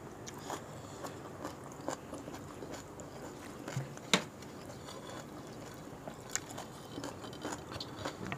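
Someone eating spicy rica rica chicken, close crunchy bites and wet chewing with scattered clicks and one sharp crack, over a quiet background with no speech.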